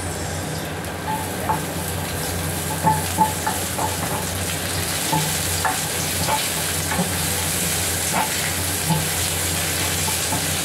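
Garlic, onion and ginger sauté for chicken adobo in a steady sizzle, with repeated scrapes and taps of a utensil stirring the pan.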